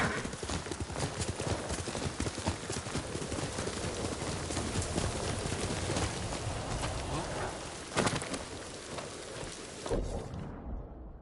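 Steady horse hooves clip-clop over a dense, rain-like hiss in the video game Ghost of Tsushima for about ten seconds, then stop abruptly, leaving a faint tail.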